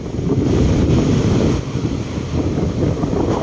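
Strong monsoon wind buffets the microphone over the heavy, continuous roar of large surf rolling in nearby at a dolomite sand beach on Manila Bay.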